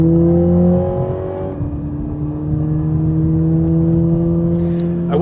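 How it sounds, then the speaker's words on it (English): 2020 Toyota Supra 2.0 under engine braking on a downhill grade, a loud steady drone that drops in pitch as it downshifts, with faint crackles from the exhaust near the end. "You can hear the exhaust crack a bit when you do downshifts like that"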